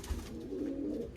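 Pigeons at a loft housing Andhra and Pakistani patta breeds coo in a low, steady, throaty burble, close and continuous, with no talking.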